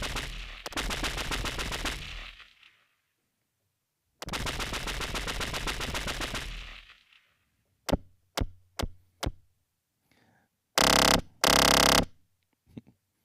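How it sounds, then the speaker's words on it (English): Synthesized space weapon zaps made with buzz-style synthesis: two long sustained buzzing blasts, then a quick run of five short zaps and two loud bursts near the end, all close and without talk. "There's your space weapon."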